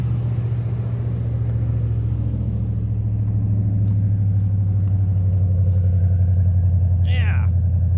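A car engine idles and runs steadily as a loud, continuous low rumble, with a short rising squeal near the end.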